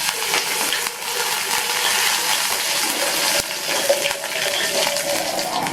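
Two cut dried red chillies and curry leaves fry in hot oil with cumin for a chutney tempering, giving a steady, dense crackling sizzle throughout with a few sharper pops.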